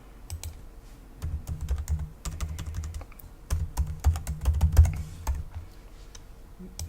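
Keys clatter on a computer keyboard as a password is typed during an AlmaLinux 10 installation in VMware Workstation, with bursts of quick clicks separated by short pauses, close and moderately loud with no voices.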